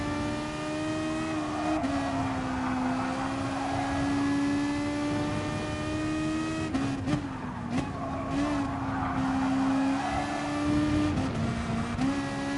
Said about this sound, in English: shifted 2 gears there by accident. Up into 5th, slipstreaming the Porsche in front.